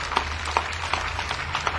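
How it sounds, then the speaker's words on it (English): Applause from a parade crowd honoring three guests in New Castle, a steady patter of many hands clapping at moderate distance with a few sharper claps standing out. "let's start it off with a round of applause of pride for these three gentlemen"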